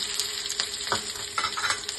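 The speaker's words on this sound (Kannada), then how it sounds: "ನೋಡಿ ನಾನು ಇಷ್ಟು ಈರುಳ್ಳಿನೂ ಹಾಕ್ತಾ ಇದ್ದೀನಿ ಒಗ್ಗರಣೆಗೆ." Chopped onions frying in hot oil for a sambar tempering, a steady close sizzle with a few stirring scrapes and crackles throughout, no voices.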